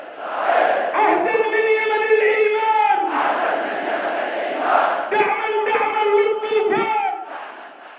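Huge crowd of Houthi supporters chanting slogans in unison, loud massed voices rising and falling in rhythmic waves across several phrases.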